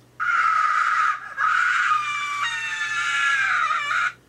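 A loud, piercing scream from a horror movie, one shrill cry, a brief break, then a second long wavering scream lasting several seconds, close and alone.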